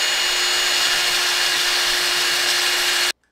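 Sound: drill spinning a bolt while sanding it smooth

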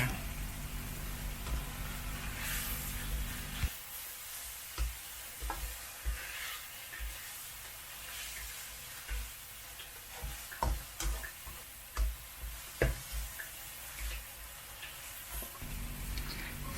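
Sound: stir-frying dill and minced pork in a pan

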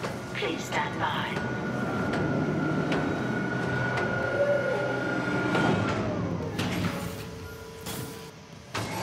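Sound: tram car moving in video game

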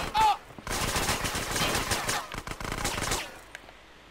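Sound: gunfire in video game GTA San Andreas

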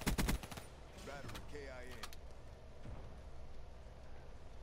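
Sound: Kuda submachine gun firing in a video game

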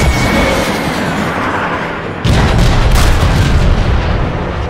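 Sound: main guns firing in video game Transformers: Fall of Cybertron

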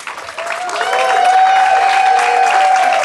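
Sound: crowd applause at a ribbon cutting

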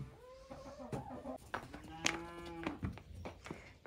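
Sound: cows mooing on a farm

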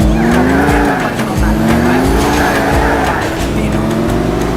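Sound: car stunt driving with tire squeal in video game GTA IV

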